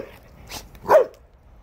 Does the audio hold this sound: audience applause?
no